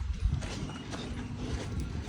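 A horse-drawn cart moves along a street on a Gili island with faint, steady hoof clip-clops, somewhat distant and soft beneath a low background hum.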